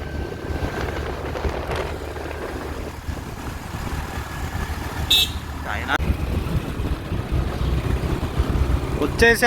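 A bus climbing the hill road to Simhachalam temple near Vizag, its engine droning steadily throughout with road rumble, a few faint higher squeaks and rattles, and some speech partly mixed in.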